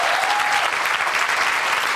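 Attendees at a community forum celebrating immigrants applaud an interpreter, giving a short, close, steady round of dense clapping at even loudness throughout.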